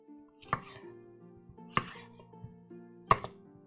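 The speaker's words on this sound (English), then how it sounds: "Just want to chop them up roughly." Three sharp, separate knife chops, spaced over a second apart, as vegetables for a spiced chicken bake are roughly chopped on a board, with faint clinks between them.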